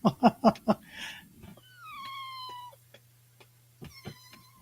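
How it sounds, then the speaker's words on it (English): Domestic cat meowing several times in close succession, rising and falling drawn-out calls over a low steady hum, with a few short sharp sounds between them, fairly close and clear. "cats is freaking out over that cat sound"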